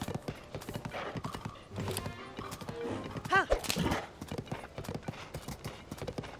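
Horse hooves clip-clop steadily in the video game The Legend of Zelda: Tears of the Kingdom, a close rhythmic trot with a brief whinny partway through, set against game ambience and other sounds.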